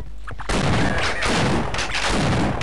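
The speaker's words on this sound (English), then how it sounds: "You shot me, I shot you." Loud, dense gunfire in the video game Half-Life: Opposing Force: a sudden burst after a brief pause, then sustained rapid shots and booming blasts.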